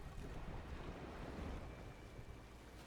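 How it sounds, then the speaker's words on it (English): Rough water and rain-soaked wind roar steadily around a speedboat rocking on violent waves, forming a dense, continuous rumble with no voices. "I sit up as violent waves rock at the speedboat."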